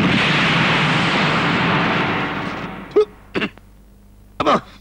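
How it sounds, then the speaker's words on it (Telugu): A bomb blast effect from a Telugu comedy film scene: a loud, rumbling roar that fades over about two seconds, followed by a few short, sharp bursts. "బాంబు"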